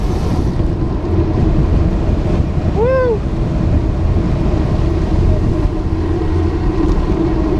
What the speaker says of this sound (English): Very windy ride today.